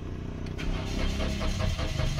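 A Toyota Wigo with an immobilizer communication fault cranks steadily under the starter without catching, a continuous loud churning motor drone that never settles into an idle.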